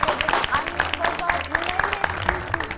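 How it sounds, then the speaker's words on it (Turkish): Applause from a small group of girls celebrating report-card day, scattered claps running under overlapping chatter and voices throughout. "alkışlayalım ya"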